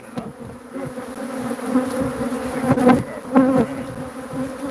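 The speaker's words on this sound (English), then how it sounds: "the bees are so loud" A thick, loud drone of many buzzing bees swells and fades, with sharper close passes of individual insects flying near.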